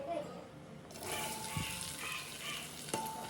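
Chopped onion hitting hot oil in a pot and frying, a soft hissing sizzle with light stirring clatter and a couple of sharp knocks of a utensil against the pot, close by.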